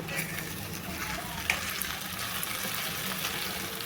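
Raw banana and tomato curry is stirred in a pan, a soft, even sizzle with scraping and one clink near the middle, and no one speaking.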